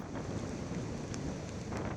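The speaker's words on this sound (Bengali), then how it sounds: "শহর জুড়ে গুড়ি বৃষ্টির সঙ্গে প্রবল দমকা হাওয়া" Strong gusty typhoon wind sweeping across Hong Kong with light drizzle, heard as a dense, continuous roar buffeting the microphone, loud and close throughout with no voices.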